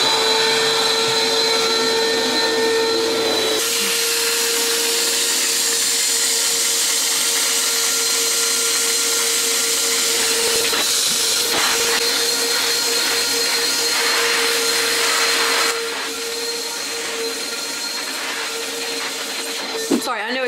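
A powerful vacuum cleaner runs steadily and loud throughout while a sofa is cleaned during home renovation work, its constant whine holding at one level before dropping slightly near the end.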